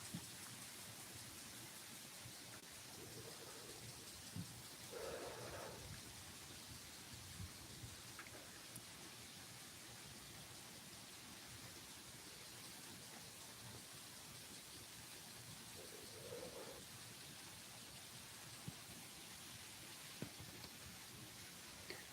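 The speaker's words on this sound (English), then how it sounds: "It's really raining." Heavy rain falls in a steady, even hiss that runs throughout, fairly faint with no voices.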